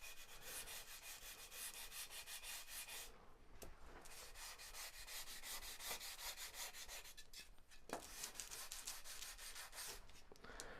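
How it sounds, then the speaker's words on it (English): Soft, rhythmic rubbing of a sanding bar over a wood sheet for a model biplane's horizontal stabilizer, repeated back-and-forth strokes at a quiet, close level with brief pauses between passes. "Now you want to take your sanding bar and just lightly sand this."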